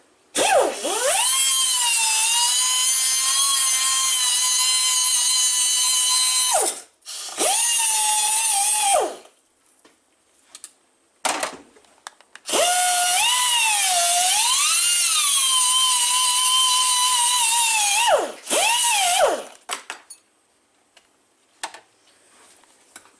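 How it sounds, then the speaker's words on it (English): A small handheld grinder grinds off metal axle boot clips on a Polaris RZR / Yamaha Rhino 2.0 axle, a loud, close high whine running in several long bursts with short pauses and spin-downs between them. "I usually just take this little grinder and grind them off, and they pop right off."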